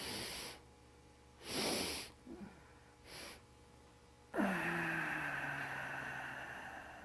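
Someone doing a guided three-part deep breathing exercise takes several airy, hissing breaths in short, evenly spaced bursts. A sustained ringing tone then follows and fades slowly.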